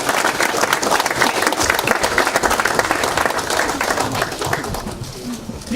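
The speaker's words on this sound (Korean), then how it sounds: "수고해 주신 우리 스스로를 위해서 박수 한번 같이 쳐주시면" Audience at a Liberty Korea Party meeting applauding, a dense steady clapping that fills the whole stretch at close range and stays fairly loud throughout.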